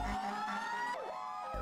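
Police car and fire engine sirens wail in a birthday parade for a 100-year-old World War II veteran outside a Long Island, New York care center, a steady siren with a rising and falling sweep, moderately distant and continuous.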